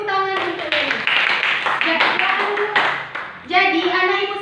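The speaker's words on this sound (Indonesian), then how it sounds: "Beri tepuk tangan untuk Mary" Students applaud a classmate in a classroom, a brief burst of scattered clapping from a small group, with a teacher's voice before and after.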